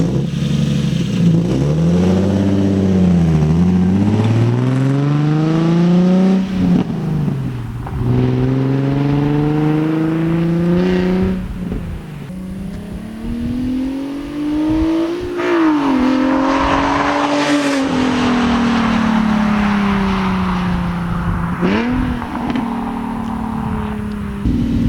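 An Infiniti G37 fitted with a custom exhaust drives and revs hard, its engine note climbing and falling through repeated loud acceleration sweeps with brief tire squeal, heard close with no talking.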